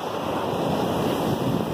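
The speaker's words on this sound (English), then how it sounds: "I'm not sure if you can hear me over the roar of the waves" Ocean waves roar onto a dune-backed beach at Ustka on Poland's Baltic coast, a steady, loud wash of surf mixed with wind noise on the microphone, with no pauses.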